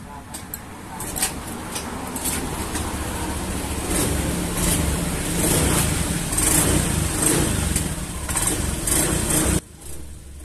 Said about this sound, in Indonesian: ini motor sekarang kita hidupkan.